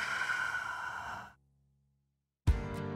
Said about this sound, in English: Loud exhale out your mouth.